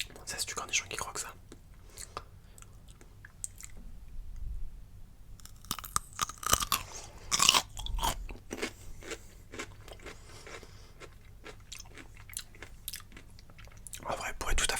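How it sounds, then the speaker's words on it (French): Crunchy pickles being bitten and chewed up close in an ASMR setting, with crisp crackling crunches in irregular bursts and soft mouth sounds, loudest in a cluster midway, with faint whispering at times. "Bon, ça, c'est du cornichon qui croque ça."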